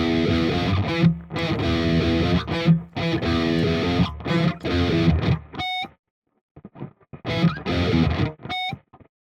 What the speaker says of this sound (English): That's what the glitchy kind of guitar will sound